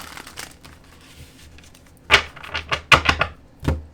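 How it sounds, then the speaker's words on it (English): Quick papery riffling and snapping bursts cluster in a short rapid sequence, like tarot cards being shuffled close by. "So I'll give this one more shuffle."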